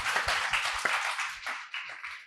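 A small audience at a climate change discussion event claps: a brief, fairly close round of applause with distinct individual claps that tapers off quickly.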